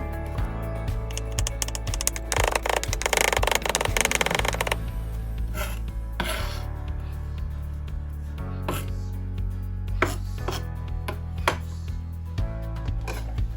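A knife chops ingredients for Filipino chicken asado on a cutting board, with quick clustered taps and irregular single knocks, moderately close and fairly quiet.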